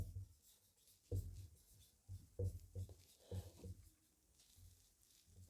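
Chalk or pen writing out lecture notes in short scratchy strokes, close and quiet, coming in irregular bursts separated by pauses.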